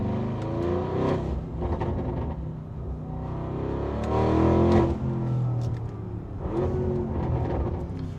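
An Audi RS Q8 launching hard under launch control, its engine roaring steadily up through the revs with a deep, loud exhaust note that swells around the middle and carries on with faint crackles throughout.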